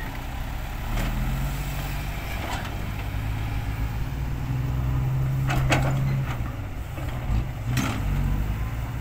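At a large land-filling site, six-wheel dump trucks unload fill while a backhoe loads, giving a steady diesel engine drone with intermittent metallic clanks and thuds close by.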